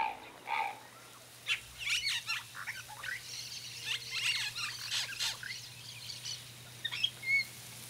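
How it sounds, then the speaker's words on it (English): Yellow-rumped caciques call in the Pantanal wetland. Their varied chirps, whistles and squeaky notes come in bursts over a steady low hum, at moderate distance and with no one speaking. "Yellow-humped caciques build their nests in the dry season, like many other birds in the Pantanal."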